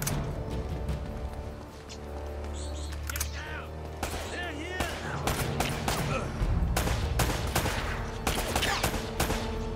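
Blind-fire gunshots in Uncharted: Drake's Fortune, a run of sharp cracks and bursts scattered across the clip over a steady game soundscape, with a voice speaking through it.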